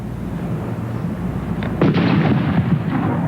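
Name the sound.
explosion in a watermelon demonstration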